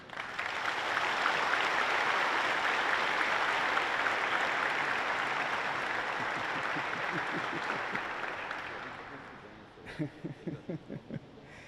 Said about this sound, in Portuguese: eu queria pedir uma salva de palmas para você